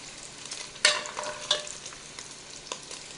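Bacon sizzling in its own grease in a pan, a constant crackling hiss broken by a few sharper pops and scrapes, close by and without speech.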